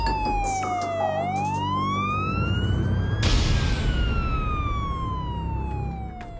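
An emergency siren wails loudly and continuously, its pitch sweeping up and down in long glides, dominating the scene with no voices.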